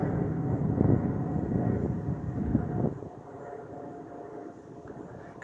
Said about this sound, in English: they're gonna tweet as soon as the plane noise is gone